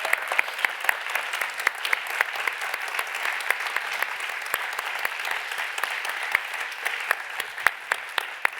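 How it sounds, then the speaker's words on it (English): Steady audience applause for fifteen award finalists at a summit, dense clapping with a few sharp, distinct claps standing out near the microphone, lasting about eight seconds. "I'd like you to join me in giving another big round of applause to the 15 finalists"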